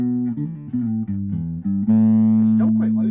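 A 1980 Washburn Scavenger bass played through an Ibanez BSA15 amp picks out a short run of low, plucked notes, then holds one loud sustained note while fingers slide and squeak on the strings.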